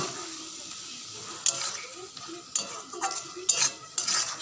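A spoon stirs spice paste cooking down in a pan for egg curry, with soft sizzling and several scraping, clinking strokes against the pan, fairly close.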